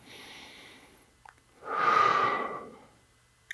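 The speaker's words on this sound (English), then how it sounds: "And then 10 breaths." Deep, forceful breathing during an exercise held with knees bent and hips pushed forward: one long, loud exhale swells in the middle, framed by softer breaths.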